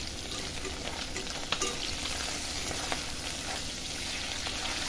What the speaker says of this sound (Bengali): মাছটা কিন্তু ফুটছে জানো